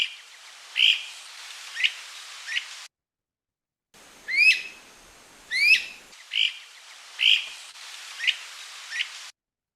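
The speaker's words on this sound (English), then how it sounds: "Brown-crested flycatcher." Brown-crested flycatcher calls: a series of sharp, clear whistled notes, some upslurred, spaced irregularly with a brief pause midway, close and prominent with no talking.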